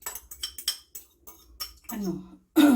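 Dishes and cutlery are washed, with scattered clinks and clatters of utensils against plates, then running water near the end; brief voice sounds mix in.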